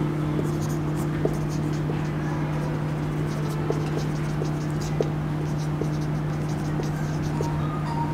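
A pen writing on paper during an accounting lesson, soft continuous scratching strokes with small taps, close and steady over a constant low electrical hum.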